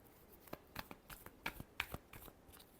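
Tarot cards are shuffled in quick, soft, close riffling clicks and snaps in an irregular rhythm, quiet overall, with no one speaking.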